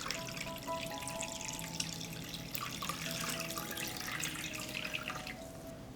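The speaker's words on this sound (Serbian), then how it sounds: "Vodu sipam u šerpu do visine poklopca." Water pouring steadily into a cooking pot lined with a cloth on the bottom, a continuous close splashing rush that fills the whole stretch without pause.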